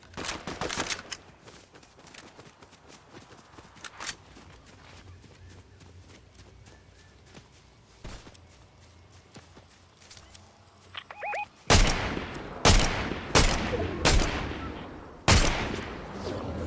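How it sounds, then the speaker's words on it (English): Gunfire in a shooter video game: scattered single shots early on, then a loud close burst of rapid, sharp reports in the last few seconds. "Somebody else is shooting at us."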